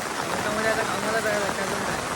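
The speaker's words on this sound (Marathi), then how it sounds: "खूप पाऊस देखील आहे पाऊस बघू शकता तुम्ही" Heavy rain pours over a flooded Mumbai street as a dense, steady hiss that stays close and loud throughout, with a faint voice in the background.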